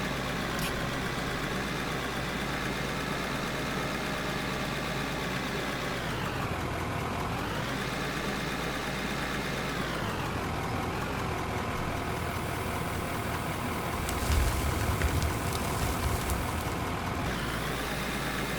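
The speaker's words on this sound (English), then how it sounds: "So I figured if I'm gonna run my tractor," A tractor engine runs steadily, working a mine in a game, its mid-pitched drone holding constant with slight pitch dips as the load shifts, with no talk.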